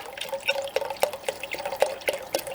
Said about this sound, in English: Actually, I can add my broth now.